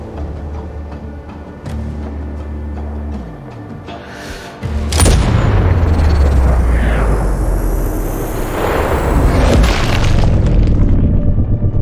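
A heavy sniper rifle shot from the game Sniper Ghost Warrior Contracts 2 cracks loudly about midway, after a low rumbling build-up, and leaves a long, booming roar and rumble echoing to the end.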